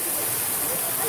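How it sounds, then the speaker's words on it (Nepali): A waterfall at Ein Gedi, Israel pours in a steady, dense rush of water, a loud unbroken roar with no pauses. "हेर्नुहोस् त यो झारना, झारना तप तप तप तप चुँदै"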